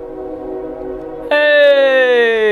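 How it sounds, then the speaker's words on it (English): Train horn blowing in a long, loud sustained chord that starts abruptly, with a slight fall in pitch as the train passes, over a low rumble; no talk. "It's the train, everybody. There it goes."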